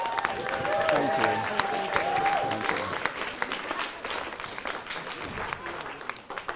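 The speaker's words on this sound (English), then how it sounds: "But I want a round of applause for Adele as well" Wedding guests give a round of applause during a speech, dense clapping with some crowd noise that starts strong and gradually tapers off across the clip.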